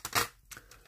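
Small slightly curved scissors snip yarn close to the thread, a couple of crisp, quiet cuts in quick succession with no talk over them.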